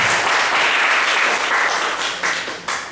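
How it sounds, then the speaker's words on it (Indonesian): Audience applause at an evening prayer service, a dense sustained clapping that stays loud throughout and eases slightly near the end. "Ada tepuk tangan bagi dia."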